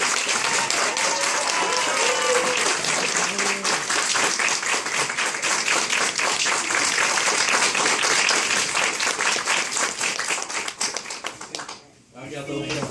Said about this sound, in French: Une bonne main d'applaudissements s'il vous plaît pour une petite.